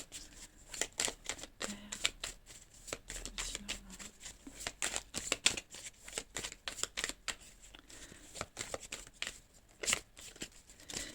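Tarot cards being shuffled and drawn, a steady run of close, papery flicks and snaps with brief rustling pauses, no talking over it.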